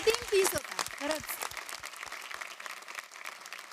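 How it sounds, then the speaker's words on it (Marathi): An audience on a Marathi TV singing competition applauds a saxophone piece, a burst of clapping that thins out and fades while voices talk over it. "परत एकदा विशालच्या आधी सॅक्सोफोनला प्लीज टाळ्या द्या"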